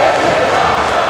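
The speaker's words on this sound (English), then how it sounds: "Crowd here chanting" A wrestling arena crowd roars and chants in a steady, dense wash of voices, filling the space without a break.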